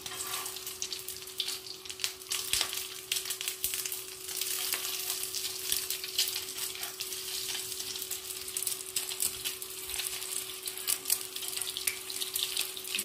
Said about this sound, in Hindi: इसको पलट के गोल्डन होने तक फ्राई कर लेना है।